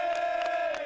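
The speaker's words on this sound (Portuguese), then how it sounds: "a torcida adversária aproveitou para gritar" Opposing football supporters in a Brazilian stadium during a penalty shootout for a semifinal place, a massed crowd sustaining one loud chanted shout, steady and dense, with rhythmic surges.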